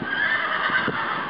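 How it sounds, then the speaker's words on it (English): A real horse neighing in a country setting, one drawn-out whinny with a wavering pitch, fairly close and loud with no talk over it. "That's a real horse."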